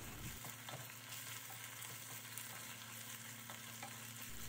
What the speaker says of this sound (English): Add the washed crayfish and cook it for about 2 to 3 minutes.